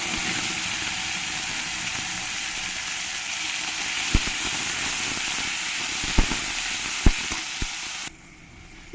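Onion paste sizzles in hot oil with whole spices, bay leaf and dried red chillies for a prawn malai curry: a steady close hiss with a few sharp clinks near the end before it cuts to quiet.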